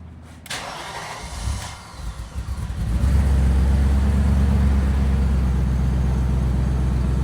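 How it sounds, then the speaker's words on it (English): An old BMW car engine cold-starts, cranking briefly, catching, and settling into a loud steady idle rumble that continues close by, with no voices. "Let's see, cold start."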